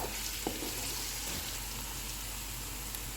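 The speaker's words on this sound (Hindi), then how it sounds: "इसमें अदरक और लहसुन का पेस्ट डालेंगे। इनको 1 मिनट तक फ्राई करेंगे।" Ginger garlic paste frying with onions in a pan for keema-stuffed karela, giving a steady, dense sizzle that holds evenly throughout with no talking.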